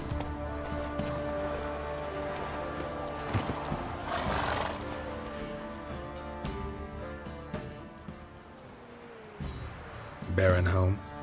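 A horse in The Witcher 3: Wild Hunt whinnies and its hooves clip-clop near a castle, with game music and ambience throughout and a louder burst of sound near the end.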